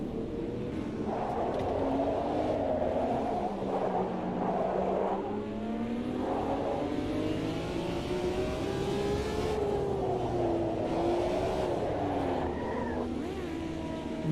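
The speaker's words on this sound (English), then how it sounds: "that was sliding under braking there" A race car engine drones and revs continuously in a sim racing game, pitch rising and falling through corners as the car slides under braking, loud and steady with faint tyre noise.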